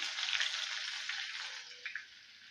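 Sliced onion goes into hot oil where mustard seeds, fenugreek and cumin have already popped, giving a bright, steady hiss of frying that fades slightly, with a couple of small crackles near the end.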